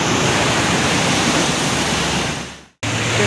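Floodwater from heavy rain rushes loudly and continuously at close range, a broad roaring wash that briefly cuts out before resuming at full strength.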